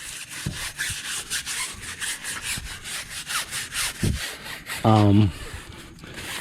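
Stiff, aggressive bristle brush scrubbing a car tire during detailing, a continuous harsh rasping swish in steady back-and-forth strokes, close up, with a brief louder scrape near the end.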